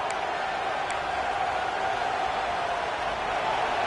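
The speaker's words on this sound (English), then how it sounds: "Listen to the crowd energy here in the early going." A distant college football stadium crowd with Ohio State playing roars in a steady, broad wash of noise, fairly faint and unbroken across the moment.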